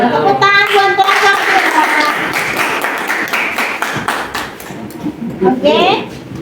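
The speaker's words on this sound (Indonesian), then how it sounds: "Tepuk tangan buat kelompok." A classroom group in Indonesia receives applause after presenting: a loud burst of many hands clapping in dense rapid patter, tapering off over about six seconds, with voices murmuring in the room.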